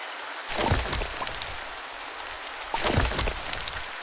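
Steady rain patter with two louder bursts of dripping and splashing, fairly close, no voices.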